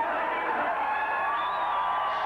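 Boxing arena crowd in Tampa keeps up a steady, dense murmur of voices after a first-round knockout, a continuous buzzing roar with no single voice standing out.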